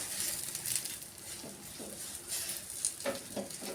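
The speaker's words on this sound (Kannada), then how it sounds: "ಫ್ಲೇಮನ್ನು ಹೈ ಫ್ಲೇಮಲ್ಲಿ ಇಟ್ಕೊಂಡು ನೀವು ಫ್ರೈ ಮಾಡಿಕೊಡ್ರಿ" Carrot chapati fries in ghee on a pan over high flame, giving a soft continuous sizzle with a few crackles and light scrapes, fairly quiet and close.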